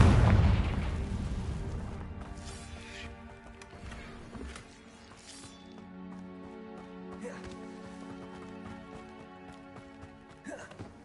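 Confringo fire spell blasts in Hogwarts Legacy, a heavy boom at the start fading into rumbling crackle and debris, with a voice speaking over the aftermath and game music underneath.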